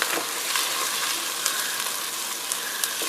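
Onions frying in olive oil in a pan, giving a steady close sizzle with small crackles and pops throughout, no voices.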